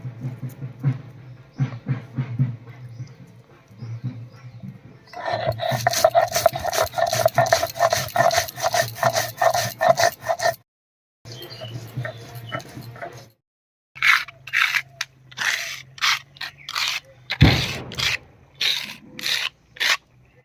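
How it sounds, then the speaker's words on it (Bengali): Home-prepared spices are ground by hand into a paste for a cauliflower and paneer curry; rhythmic, close rasping strokes come in quick bursts with brief pauses between them. "আর এই ফাঁকে আমি নিজে রাখা মশলাগুলো বেটে নিচ্ছি"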